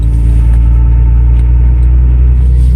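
A car's transmission whining on a cold day, a steady tonal whine sitting over a continuous low engine rumble that stays even and close throughout.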